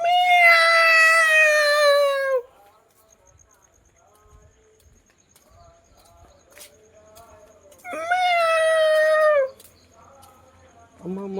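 A cat meowing loudly in two long, drawn-out calls separated by several seconds of near quiet with faint rustles, a third cry starting at the very end.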